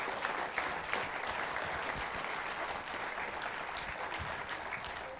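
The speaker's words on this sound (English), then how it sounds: "How about a round of applause for these guys?" A concert crowd applauds a middle school band with steady, full hand-clapping from start to finish. The sound is moderately loud and fairly close.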